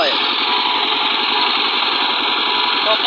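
A tractor engine idles steadily and close by, a constant low throbbing rumble with no change in pace throughout.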